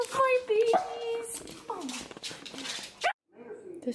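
Dogs whimpering and whining excitedly as their owner returns home, high-pitched rising whines and yips up close, with a person's excited voice mixed in.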